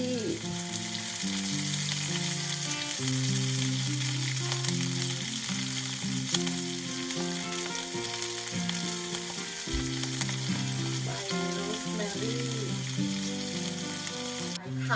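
Garlic sizzles and crackles in a hot frying pan, a constant bright hiss running under loud background music throughout.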